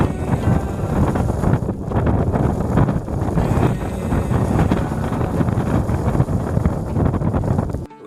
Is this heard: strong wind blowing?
yes